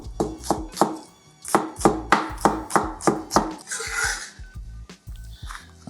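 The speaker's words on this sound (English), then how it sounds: "So we're going for very thin slices on the stems." A kitchen knife slices dasheen bush stems thinly on a cutting board, producing a quick, regular series of sharp chops, about a dozen crisp strikes with a brief softer rustle of handling partway through.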